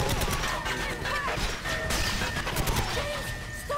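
Sustained gunfire and crashing impacts around a console in GoldenEye 007 Reloaded, a dense, loud, chaotic barrage that runs continuously without letup.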